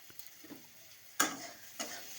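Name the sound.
frying prawn curry base with turmeric powder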